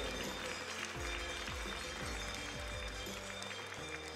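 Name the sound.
applause for the owners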